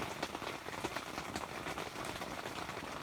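Heavy rain pounding on a tent at night during winter Jeep camping in east Ohio, a dense continuous patter of drops, steady and fairly soft, with no voices.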